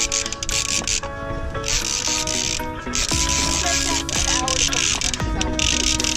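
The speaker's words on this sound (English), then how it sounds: "Keep reeling." A fishing reel's ratcheting gears click and grind continuously as it is cranked hard during a fight with a goliath grouper, loud and close, with people talking and shouting over it.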